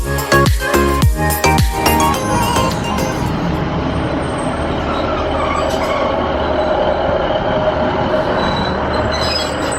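Northern class 156 diesel train running, a loud onboard rumble with rhythmic clickety-clack of wheels over rail joints at first, then a steady roar and faint wheel squeal, no voices.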